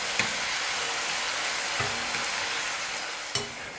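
Semolina snack seasoned with salt and chilli powder frying in hot oil, a steady close sizzle broken by a few soft knocks of a ladle stirring the pieces.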